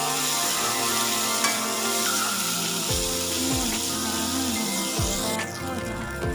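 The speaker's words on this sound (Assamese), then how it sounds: "এতিয়া পিঁয়াজখিনি ধুনীয়াকৈ ৰঙচুৱাকৈ ভাজি ল'ম" Onions with salt fry in oil in a pan, a continuous close sizzle broken by a few scraping stir strokes, with no voices.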